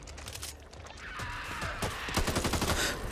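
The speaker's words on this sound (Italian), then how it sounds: "Ho sparato anch'io." Gunfire from the Back 4 Blood video game: a ragged run of close, repeated shots building toward a denser, louder burst near the end, with no talking.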